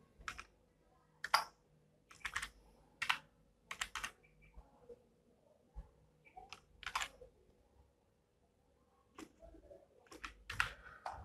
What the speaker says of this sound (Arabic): تمام، انا هبدا اكتب الباسورد